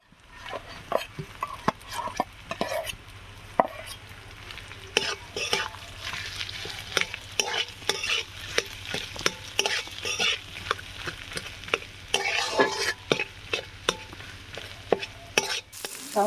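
Boiled, mashed potatoes being stirred into fried onions in a pan, with a steady sizzle under repeated scraping strokes of a spoon or spatula against the metal throughout.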